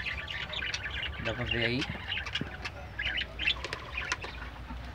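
Budgerigars in a breeding cage chirping and tweeting busily up close, with a brief burst of wing flapping, while a person talks softly over them.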